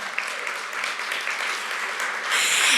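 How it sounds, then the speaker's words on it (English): An audience applauds warmly, the clapping steady and dense, swelling a little louder toward the end. "so clapping to them"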